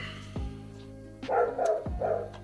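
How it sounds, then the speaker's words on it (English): Dogs barking in the background, three or four sharp barks in quick succession after a quiet start, moderately loud and somewhat distant. "dogs barking when I'm trying to record."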